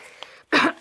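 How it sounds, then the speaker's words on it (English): A single sharp, close cough bursts out after a brief silence, harsh and breathy, trailing into the start of another throat sound at the end. "Excuse my coughing."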